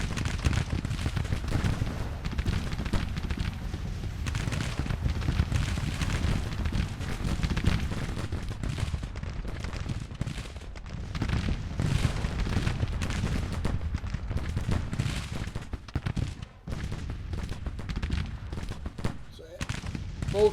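Musket volleys and artillery from a Grand Tactician Civil War battle, Spring 1861 campaign, as a Union force makes a fighting withdrawal: dense continuous rumbling gunfire with scattered booms, steady and fairly loud throughout, with some talk over it.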